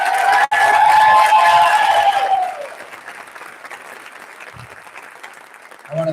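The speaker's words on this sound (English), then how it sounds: "Let's have a big round of applause for our student presenters" A school district awards audience gives a loud round of applause for student presenters; the clapping is heavy at first, then thins and fades to scattered claps, with some speech at the start.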